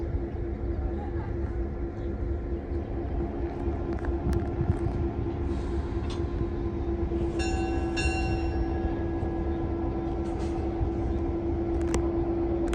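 Steady low diesel locomotive engine rumble with a constant hum as it sits on a railroad turntable at a railroad museum, with brief metallic squeals and clanks partway through.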